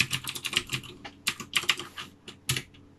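Fast, close computer-keyboard typing while a password is entered: clustered bursts of crisp key clicks with short pauses between them.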